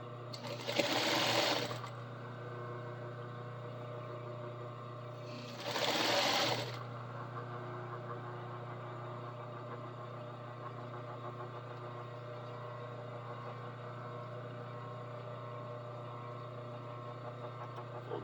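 A sewing machine stitches a belt loop seam in two short, loud bursts of rapid motor whir, separated by a pause, then a steady low hum of the idling machine continues.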